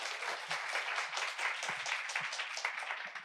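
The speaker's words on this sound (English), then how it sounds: "Can we have a round of applause for Mudit?" An audience at a Web3 talk applauds, a dense burst of many hands clapping at moderate volume that carries on steadily for a few seconds.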